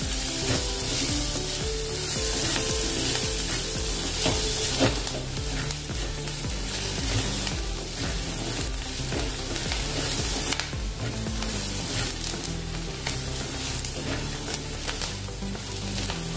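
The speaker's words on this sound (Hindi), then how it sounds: "प्याज, हरी मिर्च, अदरक, लहसुन हो गया है अच्छे से भूनकर" Onions, green chilies, ginger and garlic sizzle steadily in a hot pan for a spinach dish, a dense, continuous frying hiss that holds throughout with no one talking.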